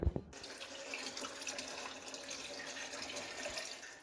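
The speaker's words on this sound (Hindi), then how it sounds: "इसमें मैं 1 गिलास पानी डाल रही हूँ।" A glass of water poured into a blender jug, a steady splashing stream heard close after a short knock at the start, continuous and fairly quiet.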